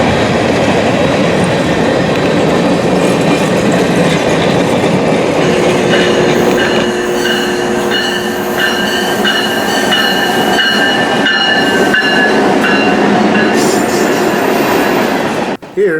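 A Florida Central Railroad train rumbles and clatters as it slows to enter the north end of the West Yard at Taft, steady and loud nearby, with faint wheel squeal and a cutoff at the end.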